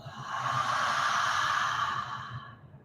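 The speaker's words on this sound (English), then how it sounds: "an audible exhale out your mouth from the top of your head all the way down" A single long, audible exhale through the mouth during yoga breathing, a soft breathy rush swelling and then fading out alone over a few seconds.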